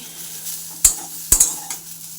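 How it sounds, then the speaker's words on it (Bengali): Pieces of drumstick (moringa) fry in oil with a soft sizzle, broken by two or three sharp utensil scrapes and clinks as they are stirred, close by and with no speech. "সজনা ডাঁটা টুকরো করে তেলে ভেজে নিলাম"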